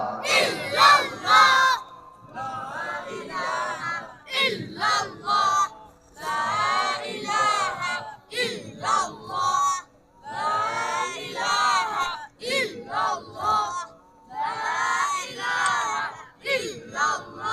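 A large crowd at an Islamic gathering chants dhikr loudly in unison, rhythmic phrases repeated in strong bursts with short pauses between them, filling a reverberant space.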